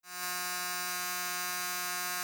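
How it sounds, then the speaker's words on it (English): A Braun Series 9 Pro electric shaver runs steadily for a couple of seconds, a continuous close buzzing drone at moderate volume with a full tone, starting abruptly and with no voices. "In terms of volume, the shaver is in the lower mid-range of our test at around 63 decibels."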